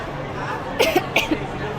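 A person waiting in a queue at MOA Arena for a concert lets out a couple of short, dry coughs up close, over a steady background of crowd murmur.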